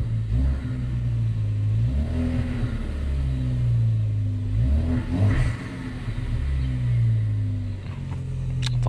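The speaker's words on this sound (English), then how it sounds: "let's give it some revs" A 2015 Ford Focus ST engine revs up repeatedly from idle, several rising and falling pulls of a mid-pitched engine heard close and loud, with no talking.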